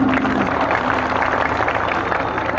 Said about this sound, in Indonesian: Tepuk tangan untuk Yaka.